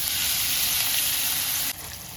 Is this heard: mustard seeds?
yes